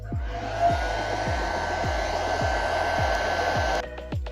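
A hair dryer or heat gun blows steadily while heating the trimmed edges of a material before they are folded over, a constant loud whoosh that stops abruptly near the end.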